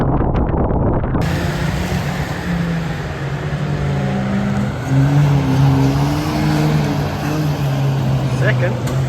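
Race cars roar around the Cowdenbeath Racewall oval during the first race of the year, a loud continuous engine drone with rising and falling pitch as cars pass, mixed with heavy wind buffeting on the microphone.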